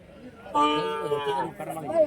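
A cow moos loudly and at length at a busy cattle market in Orappam, Krishnagiri, with a second, shorter low call following amid background chatter.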